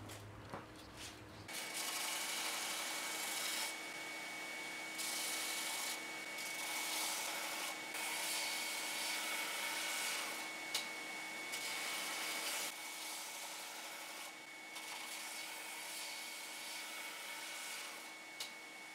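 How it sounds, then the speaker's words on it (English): A belt sander grinds against wood in a home workshop while a large bevel gauge is being made. It starts after a brief pause and then runs as a steady, close abrasive whir that dips and swells as pressure changes. "I'll just finish up on the belt sander."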